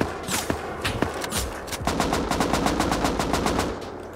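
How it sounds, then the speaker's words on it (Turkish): Rapid automatic gunfire from the game Rust rings out, a few scattered shots first and then a steady, evenly spaced burst of rounds, loud and close, with almost no talking. "Buradan vuruyor."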